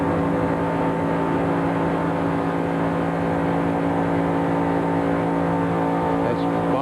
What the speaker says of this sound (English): So Bowser's car obviously on 7 cylinders.